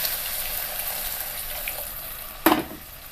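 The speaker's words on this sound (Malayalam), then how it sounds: "ഇനി ഇതിലേക്ക് നമ്മൾ എടുത്തു വെച്ചിരിക്കുന്ന ചൂടുവെള്ളം ഒഴിച്ചു കൊടുക്കാം." Hot water poured into a simmering bean masala curry gives a steady wet pouring hiss, with a brief louder splash near the end.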